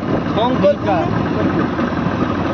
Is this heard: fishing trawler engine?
yes